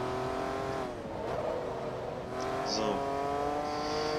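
A Jaguar race car's V6 engine drones and revs continuously in Forza Motorsport 2 during an S-class endurance race, a steady mid-level engine tone with rising and falling pitch while someone talks over it.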